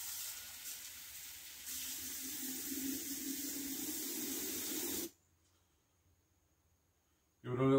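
Water hisses steadily into a container of neem oil spray mixture for several seconds, then stops abruptly, followed by a short burst of noise.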